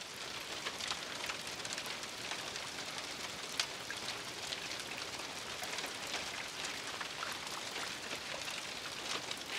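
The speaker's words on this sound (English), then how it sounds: "the rain hitting the roof is going to be an orchestra all of its own" Rain drumming on the tin roof of a barrel cabin at a state park campground, a steady, dense patter of drops that stays even throughout with no voices.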